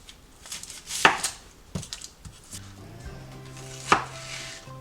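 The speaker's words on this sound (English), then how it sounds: "I've got a yellow onion here that I'm just going to chop up into big pieces" A knife cuts a yellow onion into big pieces on a board, giving a few sharp, separate chops with pauses between them, close and fairly quiet, with faint background hum.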